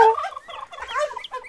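Rapid, chattering turkey gobbles from a modded Minecraft game, a continuous run of warbling calls, close and fairly loud.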